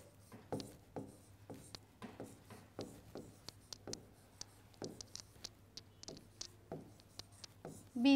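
A pen or chalk writes out a maths problem in steady, close scratchy strokes that come in short bursts with brief pauses, and no one talks over it.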